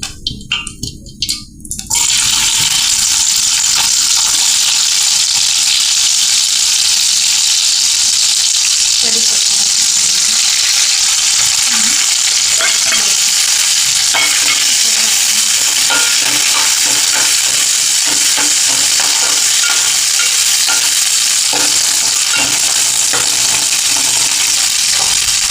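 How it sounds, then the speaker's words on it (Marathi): Onion hits hot oil with a sharp burst of sizzling, then fries with a loud, steady crackle while being stirred, with scraping stirs audible through the hiss. "तेल टाकल्यानंतर आपण कांदा टाकायचा आणि"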